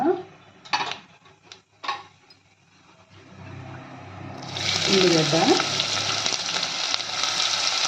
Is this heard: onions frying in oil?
yes